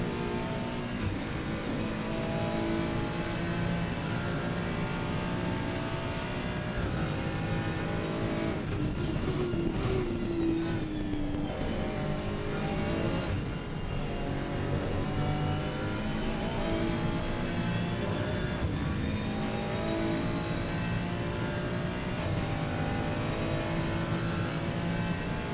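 A Mercedes racing car in a sim racing game at Monza, its engine a steady, loud, continuous drone with slight pitch shifts from revving and shifting, heard alone throughout.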